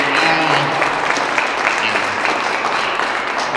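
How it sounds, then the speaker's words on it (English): Crowd applauding at a disability advocacy rally in Montana, a dense steady wash of clapping held throughout at moderate distance. "can I get a big round of applause"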